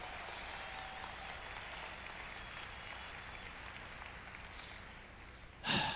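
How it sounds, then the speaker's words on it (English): An audience gives a round of applause for Eric, the organizer, at a professional talk; dense steady clapping fills the room for several seconds, holding at an even level throughout. "I think you should give Eric a huge round of applause for putting this on"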